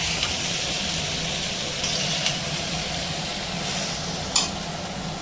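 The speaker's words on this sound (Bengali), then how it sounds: "চাউমিনটা দেওয়া হয়েছে ভালো করে একটু ভেজে নিতে হবে" Chow mein made with whole-wheat (atta) hakka noodles being stir-fried in a pan, a steady low sizzle with faint scraping of a spatula and a few brief clinks, fairly quiet and without talk.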